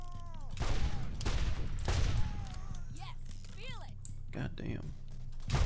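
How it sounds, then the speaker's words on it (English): Turret gunfire in the video game Borderlands 1, a run of sharp shots and bursts over about five seconds mixed with other chirping game effects, moderately loud. "Is there another turret shooting at me?"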